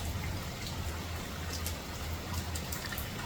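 Rain falls steadily outdoors on an island of wood and water, a soft continuous patter with scattered sharper drops and a low rumble beneath, moderately faint and without voices.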